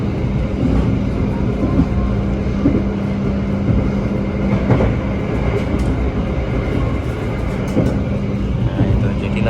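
A yellow CIT inspection train rolling past on Indonesian rails, a loud continuous rumble of wheels and engine heard close by with a person talking over it.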